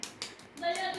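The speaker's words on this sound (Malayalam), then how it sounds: "ക്ലാപ്പ് ചെയ് ക്ലാപ്പ് ചെയ്" A child's birthday gathering at home, with a few quick hand claps sounding close by, then voices rising under a brief tonal ring near the end.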